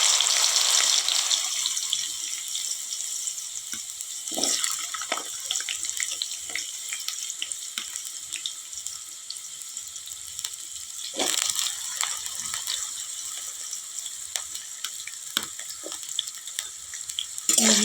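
Potatoes frying in hot oil after a tempering of dried red chillies, a steady hissing sizzle with occasional bursts and stirring scrapes, close up and without speech.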